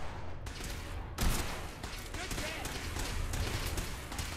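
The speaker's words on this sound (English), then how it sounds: "They're opening fire." Enemy gunfire in Fallout 4, heard as bursts of shots and sharp cracks over a dense combat din, with a voice speaking over it.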